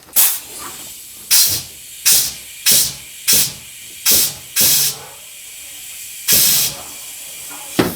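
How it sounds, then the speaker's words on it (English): Compressed air blows out the fuel return line of a 1986 Nissan 300ZX in a run of about nine sharp, loud hissing bursts, each under half a second, fired at an irregular steady pace against a quiet garage background. "We're gonna pull it off here first and blow out the return line, make sure it's clear."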